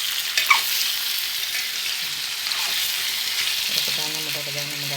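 Fish pieces frying in hot oil for a fish curry, giving a steady, close sizzle and crackle throughout, with a brief clink partway through.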